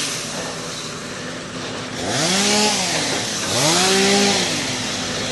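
Chainsaw running nearby outdoors, a steady idle drone that twice revs up into rising and falling whining bursts, loud and close.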